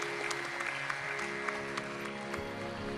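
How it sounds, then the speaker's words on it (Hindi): An audience claps steadily throughout at a Hindi Ramayan song recital, with sustained tonal music running beneath the applause. "एक बार राम राज्य के लिए ताली बजा दी"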